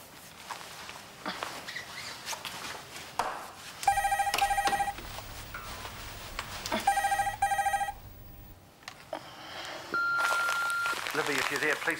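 A telephone rings in two distinct bursts of electronic bell trills in a New Zealand soap drama scene, separated by quieter room sound with footsteps, followed by a voice speaking.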